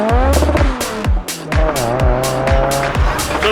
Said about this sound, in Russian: Она просто буксует. Она буксует, зацепа нет.